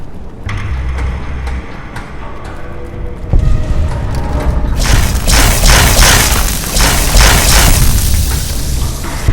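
Gunfire and explosions ring out in Fallout: New Vegas, starting with a muffled rumble, then a heavy boom, then a loud stretch of dense, rapid shots and blasts that continues to the end.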